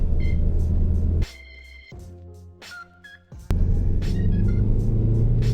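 A 2006 Peugeot 407 car accelerates at full throttle, its engine droning loudly and steadily inside the cabin, briefly dropping as gears change before the roar resumes.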